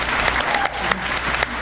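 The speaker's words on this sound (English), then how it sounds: "Let us all give her a big round of applause" Audience applause for a 2024 Pinays Manitoba Trailblazer award winner at an evening gala, a dense sustained burst of clapping with a few sharper individual claps standing out, lasting under two seconds.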